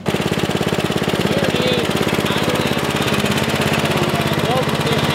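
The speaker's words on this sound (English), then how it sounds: "So I have it in the low position right now, and it's actually idling." A 1973 Simplicity 738 riding mower's small engine idles steadily at low throttle close by, with a constant rapid chugging pulse running throughout while someone talks briefly over it.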